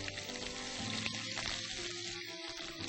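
Chopped onions frying in a pan and being softened toward light brown, a steady close sizzle with occasional stirring scrapes throughout, no talking.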